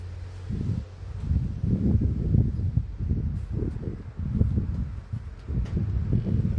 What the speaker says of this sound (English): We've got a lot of wind today.